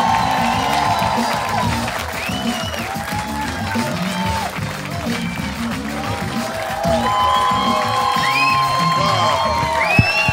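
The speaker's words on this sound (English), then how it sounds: "Please give a warm round of applause to Alonzo Bodden." A comedy club audience in DC applauds and cheers as comedian Alonzo Bodden is introduced, with dense clapping, whoops and shouts sustained loudly and steadily throughout.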